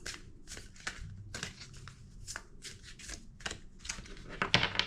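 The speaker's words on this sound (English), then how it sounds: "2 more shuffles." Papery riffling and snapping of tarot cards being shuffled for a reading in irregular bursts, close up, with soft rustles between them and no speech.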